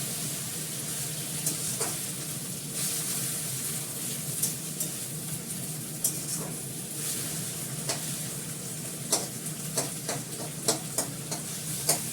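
Food stir-frying in a pan with a light sprinkle of salt, a constant loud sizzle punctuated by repeated sharp scraping and tapping of a spatula, growing more frequent toward the end, without speech.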